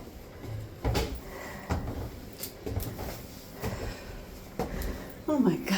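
Old wooden stairs and walls creak inside a Belgian bell tower during the climb, with irregular close creaks, thumps and knocks from footsteps on the steps and some breathy, faint rustle between them.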